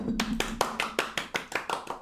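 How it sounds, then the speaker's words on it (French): A small group of people applauding themselves during a livestream, quick hand claps in a steady run of about ten beats, close and moderately loud, after a brief voice at the start. "Et on s'applaudit"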